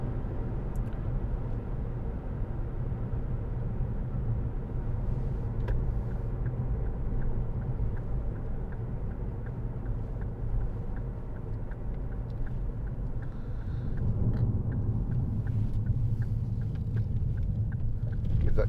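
A 2012 Ford Kuga 2.0 TDCi Titanium Powershift 4x4 driving through bends on a country lane, with a steady low engine and road rumble inside the cabin that swells louder near the end, no talk.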